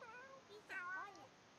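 A cat in The Sims 3 game meows, a short rising-falling call near the middle, heard over quiet game background with faint talk.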